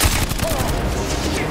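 Crew-served weapon gunfire in a helicopter movie scene, a loud sustained burst of rapid automatic fire with booming impacts, dense and continuous throughout.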